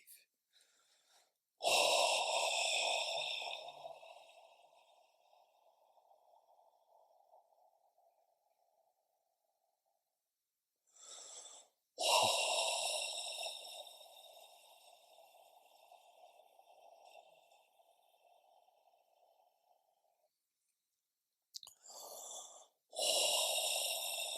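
A meditation group drawing deep breaths, three long audible inhale-exhale cycles, each a strong airy rush fading into a slow sigh, fairly close in a quiet room with pauses between.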